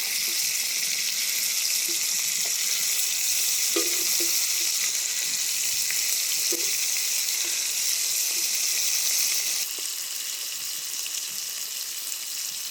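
Masala-coated fish pieces fry in hot oil, a loud steady sizzle running the whole time with occasional soft clinks and taps from handling, heard close with no voices.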